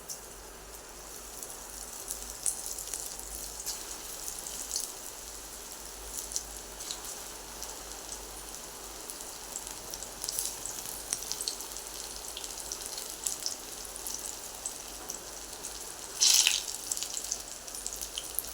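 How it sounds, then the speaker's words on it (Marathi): Crispy corn fritters (maka bhaji) sizzle steadily in hot oil, a dense crackling hiss that carries on unbroken with small pops throughout and one brighter spatter burst near the end. "असे सगळ्या भाज्या आपण तळून घेऊया"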